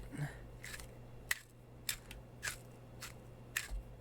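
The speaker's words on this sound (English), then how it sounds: "This is a very aggressive grinder. It really grinds a lot, very fast" A black pepper grinder cranked over a beef lasagna meal gives several short, scratchy crunching bursts, each about a half-second long, spaced irregularly against a low steady hum.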